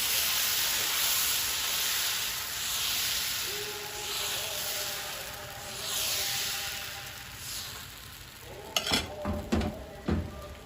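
Palada batter sizzles on a frying pan in a steady, loud hiss for several seconds, then a few clinks and clatters of utensils sound against the pan near the end.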